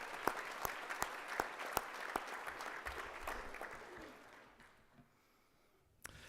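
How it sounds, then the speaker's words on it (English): An audience at a 4-H livestock judging awards ceremony gives a round of applause, with sharp distinct claps over a steady wash of clapping that fades out toward the end, then a lone late clap. "Let's give University of Kentucky a round of applause."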